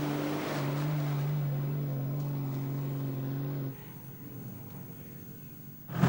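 A Dakar rally vehicle's engine straining up a large sand dune, a loud steady drone with a sustained low tone that cuts out abruptly partway, leaving quieter rumble and a burst at the end.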